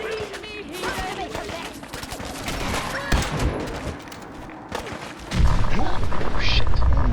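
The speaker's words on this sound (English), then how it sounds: "Probably Nuka grenades." Nuka grenades exploding in Fallout 4, heard as a dense barrage of loud booms and crackling blasts that swell into a heavy rumbling burst near the end, with a voice talking over the chaos.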